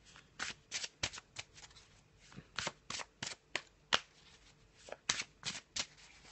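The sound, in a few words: tarot cards being handled and laid down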